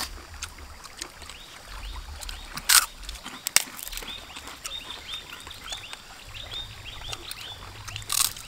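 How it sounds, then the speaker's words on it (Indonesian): Faint repeated bird calls drift in from a distance over soft outdoor background noise, with a couple of brief sharper chirps. "Burung baru bunyi."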